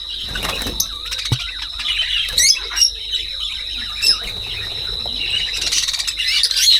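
Pet budgerigars and cockatoos chirp and squawk in their cages, a steady bright twittering with sharper louder calls breaking through, close and continuous with no talking.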